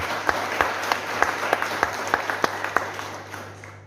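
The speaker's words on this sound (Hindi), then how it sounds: "उसकी स्तुति करने के लिए ताली बजाएंगे हम।" A congregation at a spiritual awareness meeting in Hanwatchond claps in praise in a steady, evenly spaced rhythm of about three claps per second, moderately loud and fading slightly toward the end, with no talking.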